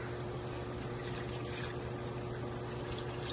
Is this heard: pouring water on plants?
yes